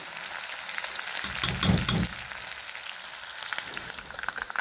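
Curry leaves and mustard seeds fry in hot oil with a loud, continuous sizzle and rapid popping. The sizzle swells into a brief, stronger burst midway.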